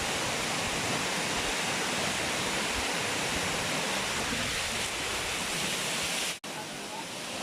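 Steady roaring rush of Ban Phonokhi waterfall in Thailand, broad and loud, filling the whole clip with a brief dropout near the end.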